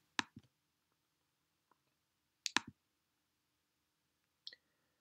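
Sharp, quiet mouse clicks on a computer while setting up a Squarespace website, a few isolated clicks spread across the few seconds with near silence between them.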